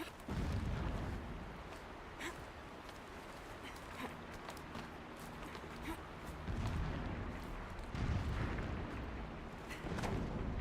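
Muffled booms of explosions roll in from a distance in the Horizon Zero Dawn game soundscape, several low thuds spread across a steady background rumble.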